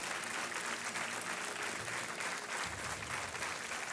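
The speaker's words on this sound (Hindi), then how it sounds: "तालियां बजती रहनी चाहिए" Studio audience applause on a Hindi TV quiz show, a sustained, even roar of many hands clapping at once, continuous throughout with no break, mixed with faint crowd murmur.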